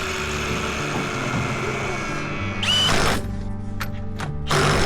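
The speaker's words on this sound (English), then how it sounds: "Cutting tips off the lug nuts because they don't fit." A power tool grinds the tips off lug nuts on a rare Toyota, a loud, close buzzing whine with several harsh bursts of cutting and short pauses between them.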